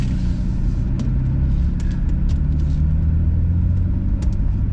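A BMW M4 in M mode with manual shifting pulls away in a deep, steady engine rumble, loud and close from inside the car, with a few faint clicks and ticks over the drone.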